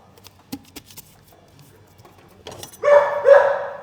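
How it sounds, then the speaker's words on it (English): A pet dog named Charlie barks twice, loud and close, near the end, after a stretch of quiet clicks and light tapping. "Apologies for my dog barking."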